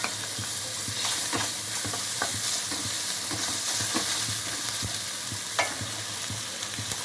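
Curry leaves hit hot oil in a tempering for chicken gravy curry, a loud steady sizzle and crackle with scattered sharp pops and stirring scrapes close by.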